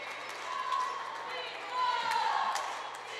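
A crowd murmurs throughout a high school basketball game between Canton-Galva and Peabody-Burns during a timeout. Scattered thumps and squeaks rise over the general din.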